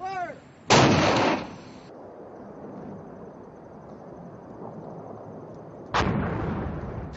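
Artillery and gunfire at a combat outpost: two loud, heavy booms with a rumbling tail, about five seconds apart, over a windy outdoor background with no clear talking.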